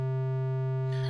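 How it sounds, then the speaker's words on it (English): Steady buzzy square-wave drone from the modulation oscillator of the Arturia Buchla Easel V software synth, held at a constant pitch with a faint noisy burst at the very end. "What you're hearing now is the modulation oscillator."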